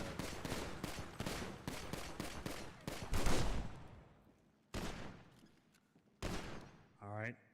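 Video game gunfire: a rapid burst of automatic shots fading out, followed by a few isolated single shots, fairly loud and close.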